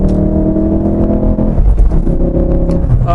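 A Ford Focus RS engine revs hard under acceleration, loud and close from inside the car, its rising drone dipping briefly at a gear change before it climbs again.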